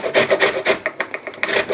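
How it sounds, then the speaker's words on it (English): An orange is scraped quickly back and forth over a small grater for its zest, a close, loud, rhythmic rasping of about a dozen short strokes with no talk. "we're going to take this and we are going to grate the orange."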